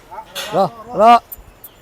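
Cattle on a farm give two short, close moos one after the other, with faint background sounds between them.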